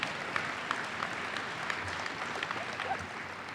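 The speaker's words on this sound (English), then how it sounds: "Now you can clap." Audience clapping at a Carver College of Medicine commencement ceremony, a steady, moderately quiet wash of many hands with scattered sharper claps throughout.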